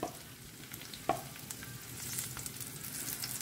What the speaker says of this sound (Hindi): सो कांदे न्ही आमकां एक बरें 1-2-3 मिनटांनी फ्राय करून घेवंक जाय.